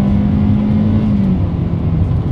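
A 2022 Hyundai Accent subcompact's engine drones steadily and loud from inside the cabin in sport mode, revving high, pitch holding then dipping slightly as it pulls up to speed.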